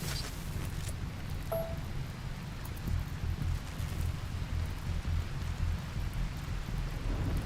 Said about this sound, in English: At least it started raining